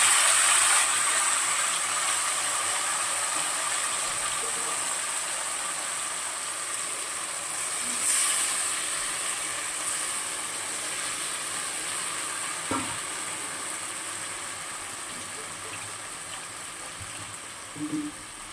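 Marinated fish dropped into hot oil with black cumin, sizzling as a steady bright hiss throughout, with a few clinks and a surge of crackle partway through.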